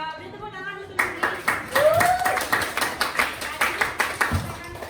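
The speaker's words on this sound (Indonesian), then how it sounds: "Beri tepuk tangan untuk ini." Students clapping in a classroom, a run of distinct hand claps in an uneven rhythm that starts after a voice, with a short speaking voice woven in near the start.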